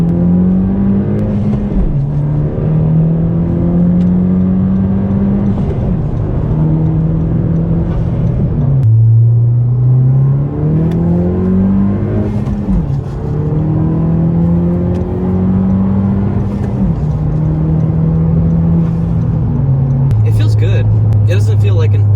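A 2020 Honda Civic Si running a TSP Stage 1 tune pulls hard through the gears, engine note climbing steadily with brief dips at each shift, loud and close from inside the cabin.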